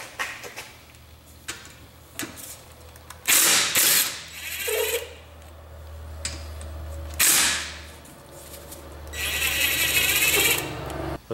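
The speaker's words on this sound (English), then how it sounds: "Now I'm going to unscrew the caliper slides." Brake caliper slide bolts are unscrewed on a BMW E46 race car, close ratcheting clicks and metallic knocks in irregular bursts, with a longer whirring stretch near the end.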